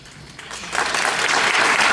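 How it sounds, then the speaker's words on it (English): Applause from a workshop audience at a 2013 summit, starting sparse and quickly swelling into loud, dense clapping that holds to the end. "clap for him"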